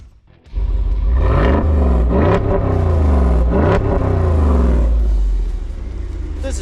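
A Jeep Wrangler 392 V8 revs hard while driving off-road, its engine roaring loud and close in a sustained surge of rising and falling pitch, then settling to a lower rumble.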